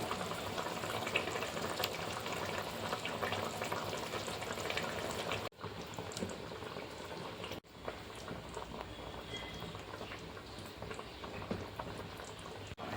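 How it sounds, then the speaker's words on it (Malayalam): Steady bubbling and sizzling of a Kerala-style fish curry boiling on the stove, continuous and close, with two brief dropouts partway through; no voices. "നമ്മുടെ അരപ്പ് നന്നായിട്ട് തിളച്ചിട്ടുണ്ട് ഇനി ഇതിലേക്ക് നമുക്ക് മീൻ ചേർത്ത് കൊടുക്കാം"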